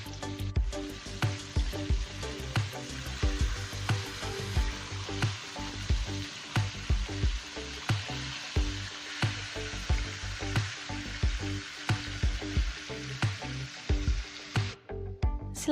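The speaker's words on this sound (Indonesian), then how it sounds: "goreng pisang menggunakan minyak goreng secukupnya dan hingga matang ya" Bananas frying in cooking oil for pisang bolen, a steady close sizzle with crackling bursts and occasional stirring knocks, continuous and fairly loud throughout with no talking.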